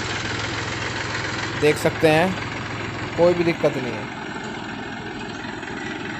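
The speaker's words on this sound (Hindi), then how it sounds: "ट्रैक्टर की हम रेस देखे दिखाएंगे" A Mahindra 265 DI tractor engine idles steadily and close by for several seconds, with someone talking over the rumble in two short stretches.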